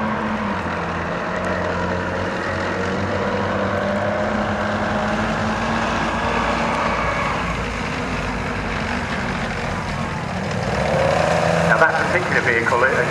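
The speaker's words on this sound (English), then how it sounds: "The downside of those tracks, you can hear them. Tracks tend to be noisier." A tracked military vehicle at a tank display rolls past with a steady engine drone and grinding track noise, loud and close, growing rougher and louder near the end.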